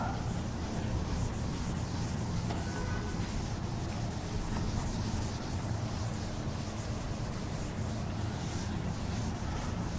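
Steady, scratchy rubbing fills the whole stretch, an eraser scrubbed continuously across a board at close range with no pauses.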